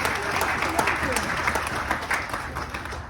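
An audience at a Kangen water demonstration gives a short round of dense, steady applause, with a voice faintly talking underneath.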